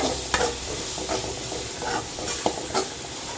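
Steady sizzling of onions frying in a pan for Chettinad pepper kuzhambu, with turmeric powder added, and a few clinks and scrapes of a spoon stirring, close up.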